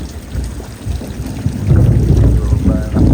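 Heavy monsoon downpour at a village home, a dense roaring wash of rain with low rumbling thunder swelling partway through, loud and continuous.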